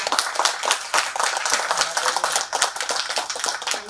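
A round of applause for a speaker at a summit on technical education and agri businesses: loud, close, continuous clapping from a crowd, dense and even throughout with no speech.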